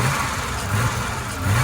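An abandoned BMW 635 CSi under restoration, with a rough idle and a suspected leak, revs its engine in a few loud surges over a low, uneven rumble.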